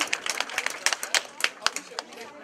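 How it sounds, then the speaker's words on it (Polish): Scattered, uneven clapping from a small audience at a library award ceremony for a teddy bear exhibition, individual claps standing out in a loose rhythm while someone talks over them. "Brawa, poprosimy gorąco"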